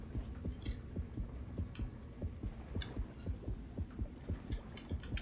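A slow, steady heartbeat pulses through the horror video game Depth, soft thumping beats in an even rhythm with faint high ticks layered above, no talking.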